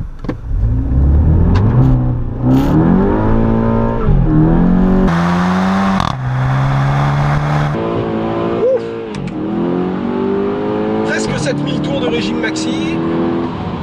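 A 2016 Skoda Octavia RS 230 with a DSG6 gearbox starts up and revs, its engine rising and falling through several loud, close sweeps under ongoing talk.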